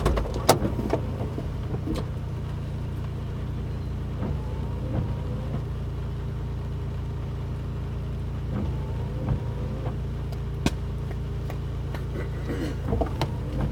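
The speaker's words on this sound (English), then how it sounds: "Driving to work." A car driving along a road with a low, steady engine and road rumble from inside the cabin, along with occasional small clicks and knocks, at a moderate level.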